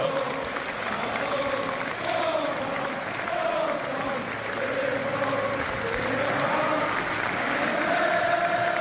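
A crowd claps loosely and out of time, the uneven clapping running steadily under a sung or chanted tune, with voices mixed through for the whole stretch.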